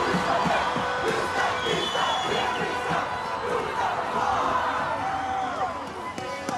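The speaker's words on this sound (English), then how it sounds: "Well, the chant goes up," A large home crowd at the Pacific Games opening ceremony in Port Moresby chants and roars in a dense, continuous wash of voices that fills the whole stretch.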